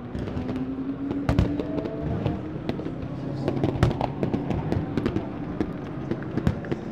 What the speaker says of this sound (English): here are the famous fireworks at the Daytona 24 hours